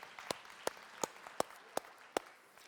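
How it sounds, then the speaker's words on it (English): Sparse, scattered claps from a conference plenary audience, about six sharp separate hand claps spread over a few seconds, fairly quiet and without a dense wave of applause. "Give Katie a round of applause."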